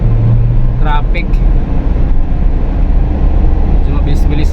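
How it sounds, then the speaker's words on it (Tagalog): Cars passing at speed on an expressway, heading northbound around midday, with a steady broad traffic roar and rushing wind noise throughout, plus a brief horn-like tone early on. "Medyo mabilis-bilis naman yung mga sasakyan pa northbound."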